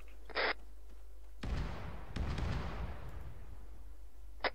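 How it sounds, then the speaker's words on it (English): An artillery strike in the military game Arma 3, a deep booming blast followed by a long rumbling roll and a second thud, heard from a distance, with no talk. "Good effect on target with artillery strike."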